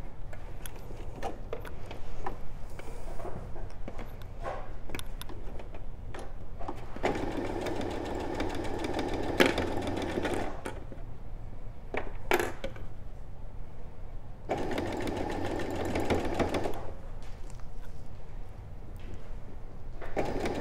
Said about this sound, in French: Je vais venir coudre, encore une fois, à un quart de pouce en suivant ma valeur de couture tracée.